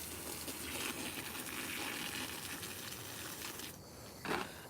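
Water running from a garden hose in a home garden, a steady gushing hiss that holds for several seconds with a brief louder splash near the end, close and continuous, no voices.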